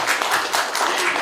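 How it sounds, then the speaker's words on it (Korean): A brief burst of audience applause at a Korean book launch event, loud close clapping from a crowd filling the short moment. "그만큼 박수 쳐주시나요?"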